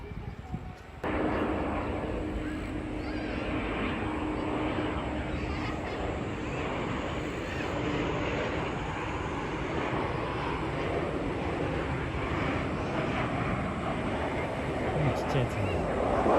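An airplane at Itami Airport makes a steady broad engine roar that rises after the first second and holds throughout. It is heard from an observation area, with people talking over it.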